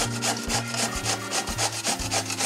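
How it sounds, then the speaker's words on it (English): Zucchini rubbed by hand over a grater, a loud close scraping rasp repeating in quick steady strokes, about five or six passes with no voices. "I'm just gonna take a minute here and grate this"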